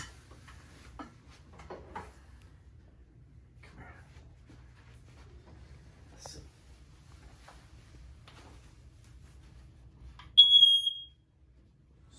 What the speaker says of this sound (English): don't forget we're supposed to check our smoke detectors twice a year.